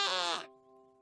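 A sheep gives a single short bleat, close and clear, cut off after about half a second, with a faint steady tonal background continuing afterward in a cartoon farm scene.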